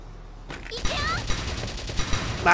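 Gunfire in a shooter video game, a rapid string of sharp shots peppering the clip at close range, with a louder burst at the end.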